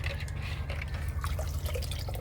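Tap water runs steadily to fill a container for thinning pottery slip in a ceramics studio, a continuous close trickle with a faint low hum underneath.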